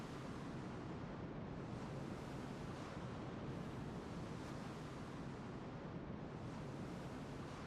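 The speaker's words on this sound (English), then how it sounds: "Something coming out of the water, or am I getting sucked into it?" Loud, steady rushing water in the video game Final Fantasy II, a dense roaring surge like crashing waves that continues without pause, with no talk over it.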